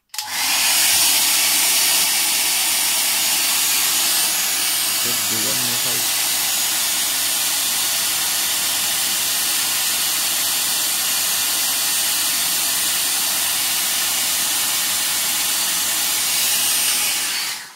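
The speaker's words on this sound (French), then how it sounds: "Donc je vais mettre un coup de sèche-cheveux." A hair dryer blows continuously with a loud, airy roar and high whine from start to finish, steady and close, aimed at a Legrand fire detector to test it.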